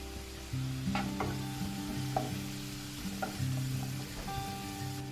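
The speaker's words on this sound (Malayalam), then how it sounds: "1 ടീസ്പൂൺ മുളക് പൊടിയും കൂടി ചേർത്ത് ഇളക്കി കൊടുക്കാം." Turmeric and chili powder are stirred into hot frying oil in a pan, producing a continuous soft sizzle with several light scrapes and taps of the spoon at irregular intervals.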